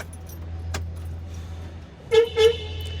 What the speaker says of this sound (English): Oh, listen to that. Nice little horn.